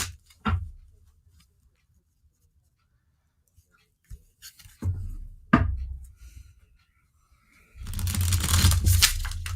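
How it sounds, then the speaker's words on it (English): Tarot cards shuffled by hand during a live reading: a few sharp riffles and snaps spaced apart amid quiet, followed by a longer, louder burst of rapid card shuffling near the end, close to the mic. "That was the worst shuffle you ever could see."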